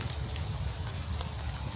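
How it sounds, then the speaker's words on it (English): Heavy rain pours steadily in a cold, wet forest, a dense continuous hiss of drops pattering on leaves and ground, close and loud with no talking. "You can hear the rain is really coming down now"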